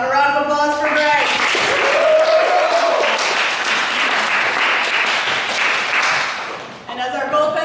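Spectators at a fencing gold medal match applaud the red fencer with a loud, sustained burst of clapping and a few cheers, framed by an announcer's amplified voice before and after.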